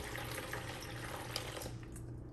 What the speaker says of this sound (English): I'm gonna use my mug to fill it with water and pour the water